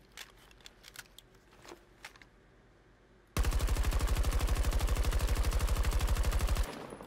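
Automatic weapon fire in the video game Battlefield 2042 rips out in one long, rapid, evenly spaced burst lasting about three seconds, loud and close, preceded by scattered quiet clicks and handling sounds.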